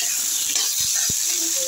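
Sweet potatoes frying in a pan of hot oil, a loud, steady sizzle held close throughout, with a couple of soft low knocks from the pan partway through.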